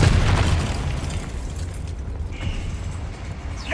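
A Confringo spell detonates in Hogwarts Legacy, with a loud, punchy boom at the start trailing off into a crackling, rumbling decay and a faint magical whoosh, ending on another sharp burst.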